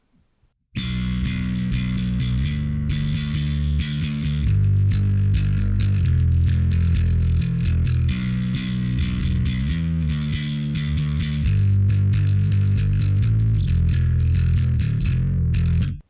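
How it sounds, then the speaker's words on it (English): Electric bass played through a Sansamp distortion setting, a gritty overdriven tone with sustained notes and riffs running steadily and loudly for the whole stretch, alone with no talking. "let's hear the Sansamp distortion setting I've got on here"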